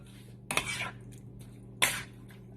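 A lid set on a pan of frying beef tapa, two clattering metal knocks about a second apart over a low background, no talk.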